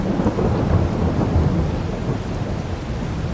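Steady heavy rain with a continuous low rumble of thunder rolling underneath in Farming Simulator 22, dense and constant throughout without pauses.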